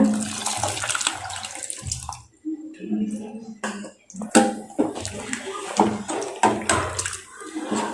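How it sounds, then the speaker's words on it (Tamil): A cup of water is poured into a pot of chow chow sambar in gushing splashes and trickles, while a voice talks over it intermittently. "ஒரு கப் தண்ணி ஊற்றிக்கிறேங்க"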